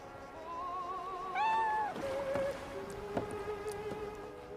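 A cat meows several times, with a drawn-out rising and falling cry followed by shorter calls, close and fairly clear over a quiet background with no speech.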